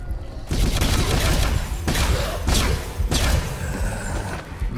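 Gunfire in the video game Syndrome during a boss fight: loud, dense bursts of shots and booming impacts in several waves, close and continuous with no talking.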